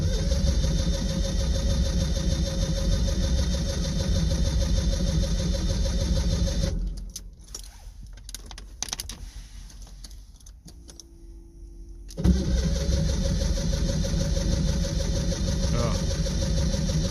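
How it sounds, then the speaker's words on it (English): Small engine being cranked with its starter, no choke, trying to start: steady loud cranking drone, a few seconds of quieter clatter and handling noise in the middle, then cranking resumes without catching. "Crank the starter there."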